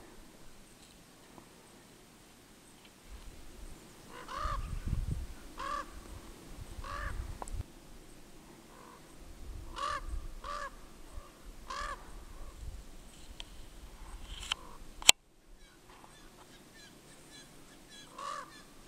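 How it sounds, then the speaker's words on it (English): A crow caws near a tree in a quiet outdoor setting, giving several separate harsh calls spaced a few seconds apart at moderate distance, with low rumbling background noise between them. "You can hear one crow."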